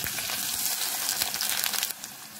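Chopped onions hitting a little hot palm oil in a dry pot, a dense, steady close-up sizzle and crackle that runs the whole time before easing slightly near the end.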